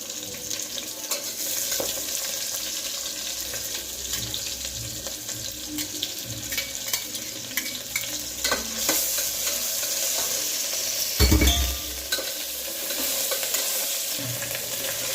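Ginger garlic paste fries and is stirred in a pan for egg biryani, a close, steady sizzle with scraping stir strokes and a brief louder clatter partway through.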